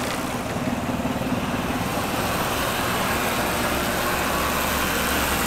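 A used John Deere 960 baler runs with its side panels open, a steady, loud mechanical drone with a rattling engine rumble that holds constant throughout, with no talking.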